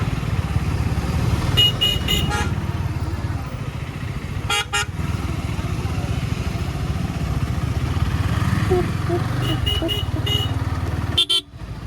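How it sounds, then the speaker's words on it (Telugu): Busy road traffic in Bhimavaram, Andhra Pradesh, heard from a motorcycle ride: a steady engine and road roar with several short horn toots in clusters, and a sharp louder honk near the end. "ఇంకా వస్తూనే ఉన్నాయి కార్లు"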